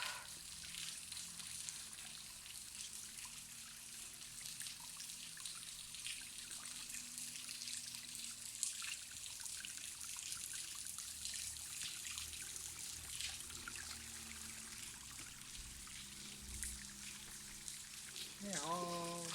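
Water trickles thinly at Skakaloto waterfall in October, when little water is flowing. The patter is faint and steady with scattered drips and light outdoor background noise. No voices are heard.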